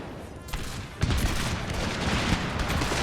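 Massed musket volleys roar across a battlefield in Total War: 30 Years War, a dense, continuous crackle of gunfire with a heavier burst partway through and no pauses.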